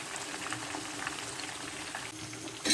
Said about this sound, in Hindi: फ़िश हमारी फ्राई हो रही है।